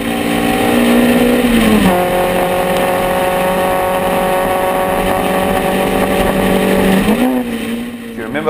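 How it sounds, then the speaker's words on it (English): A small racing car accelerates hard along a race track at Bulawayo, its engine close and loud, rising in pitch, dropping through a gear change, holding a steady high drone, then shifting again near the end. "That little car's got a real, really good turn of speed"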